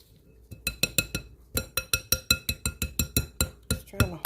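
A whisk beats cinnamon roll dough in a bowl, making a rapid, even series of sharp clinks and knocks against the side, close and fairly loud, with no talking.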